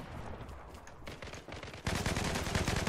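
Rapid automatic fire from a TAR-21 rifle in the online shooter Zula, sharp bursts of tightly spaced shots that start moderate, drop briefly, then turn louder and denser for the last second.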